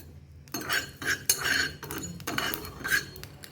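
Whole black pepper, cumin and fenugreek seeds being dry-roasted and stirred in a pan, with a spoon scraping and clinking against the metal in repeated close strokes.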